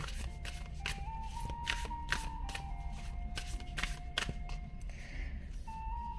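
A deck of tarot cards being shuffled by hand, with repeated riffling bursts and soft card flicks in a steady close-up rhythm, no voices heard.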